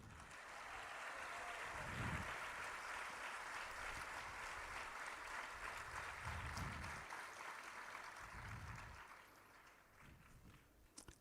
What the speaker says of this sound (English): You can clap a little bit louder also.